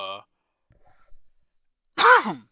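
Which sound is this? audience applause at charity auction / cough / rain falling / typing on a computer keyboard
cough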